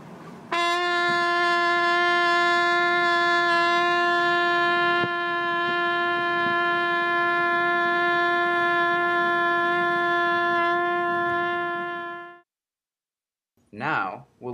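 A single sustained trumpet note played inside a moving car, held steadily for about twelve seconds at a constant pitch, loud and close, then cut off, followed by a brief voice.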